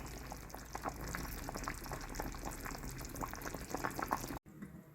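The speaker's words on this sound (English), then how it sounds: "The potatoes are almost done." Potatoes boiling in a pot of water for cheesy potato soup, a steady close bubbling and popping with small splashy bursts throughout, cut off abruptly just before the end.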